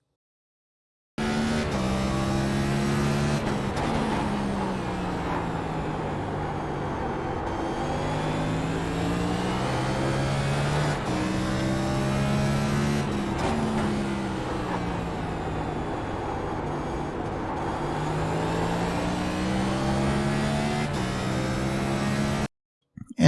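Race car lapping Martinsville in iRacing, a continuous loud engine roar that rises and falls in pitch through repeated straights and corners, several full cycles of acceleration and braking, with no talk.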